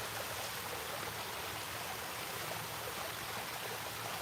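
Steady rushing water flows continuously in a stream, a broad, even wash of sound with no pauses.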